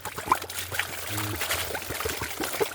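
Water is poured in a short, steady trickle lasting a few seconds, fairly close, with faint background noise and some murmuring around it.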